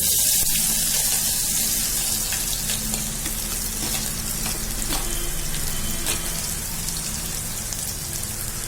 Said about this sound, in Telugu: ఆయిల్ హీట్ అయ్యాక ఇప్పుడు నేను దాంట్లో చాప్ చేసి పెట్టుకున్న పచ్చిమిర్చి,